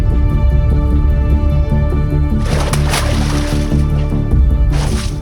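A person jumps into waist-deep water, and two loud, broad splashes and sloshes burst out over sustained dramatic background music.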